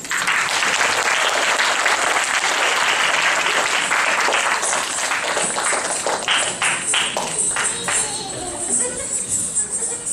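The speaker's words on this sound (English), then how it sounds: "Please welcome a big round of applause for Tanvi" A large audience at a Gurudev Jayanti celebration claps loudly to welcome a Bharatanatyam dancer, dense sustained applause that thins toward the end, with scattered individual claps and some voices mixed in.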